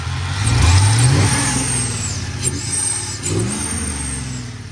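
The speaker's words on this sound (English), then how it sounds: "the exhaust do sound good too. Nothing crazy, just a muffler." A 6.0 V8 engine in a Chevy Silverado pickup idles and revs up through a plain muffler, a deep throaty exhaust rumble rising and falling, close by with no talking.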